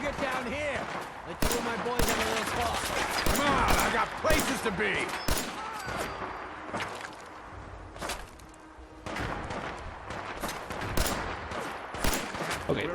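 Gunfire in Fallout 4 comes as sharp, irregular shots and bursts, some single and some in rapid clusters, over the game's background sound. Someone talks at times between and under the shots.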